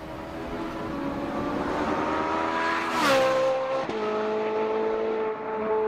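A Ferrari 458 Italia (2010-2015) flies by with a high-pitched, rising wail that peaks loudly as it passes, then drops in pitch with a gear shift as it pulls away.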